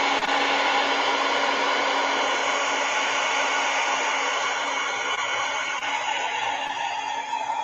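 A hair dryer blows in a steady, loud, unbroken whoosh with a faint whine, running close by without pause.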